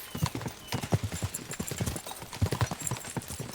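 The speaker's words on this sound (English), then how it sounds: "We should spur the horses on." Horses gallop in the Kingdom Come Deliverance II video game, a rapid uneven clip-clop of hooves on the ground throughout, fairly near and steady, with a faint whinny in the mix.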